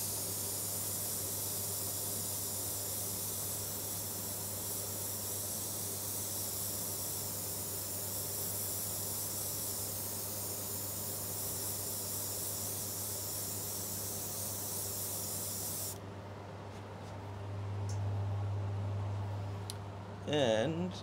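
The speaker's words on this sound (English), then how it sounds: "this is the little airbrush I was using to do that touch-up work" Small airbrush spraying black nitrocellulose lacquer for finish touch-up, a steady close hiss holding for most of the span before cutting off near the end, with a constant low hum underneath.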